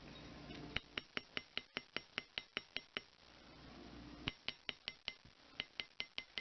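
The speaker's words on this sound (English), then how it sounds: "So I'm using a chasing hammer, and this is a metal block." A chasing hammer strikes jewelry wire resting on a metal steel block, giving sharp metallic clinks in quick, steady runs of a dozen or so blows, a short pause, then another run, close and clear.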